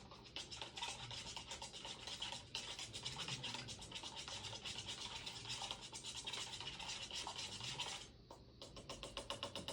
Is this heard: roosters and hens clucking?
no